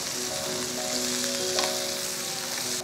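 Onion pieces frying in oil in a pan give a continuous soft crackling sizzle with scattered small pops, close and steady throughout.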